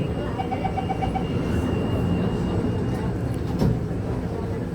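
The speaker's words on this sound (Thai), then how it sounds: "อาศัยรถไฟเดินทาง" Steady rumble and hum inside a moving MRT train carriage, with a short series of electronic beeps near the start and a brief clunk later.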